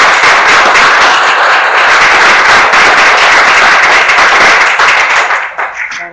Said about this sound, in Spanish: otro fuerte aplauso para el señor.